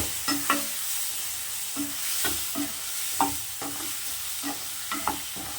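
Tomato and spices frying in oil for brinjal curry, with a soft sizzle under a rhythmic series of scraping stirs about twice a second, close and moderately loud.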